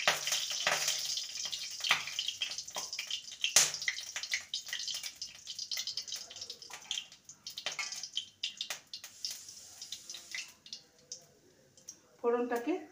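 Black cumin seeds and broken dried red chillies fry in hot oil as tempering for drumstick leaf chorchori, crackling and sizzling steadily up close while a person talks over it.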